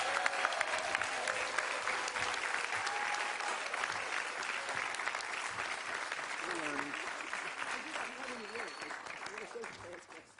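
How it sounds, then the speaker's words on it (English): Sustained applause from an audience at an affordable housing press conference in the Bronx, steady and moderately loud throughout, clapping filling the space alone without speech. "let's give a warm round of applause to our Senator Majority Leader Chuck Schumer."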